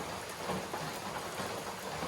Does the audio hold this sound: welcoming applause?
no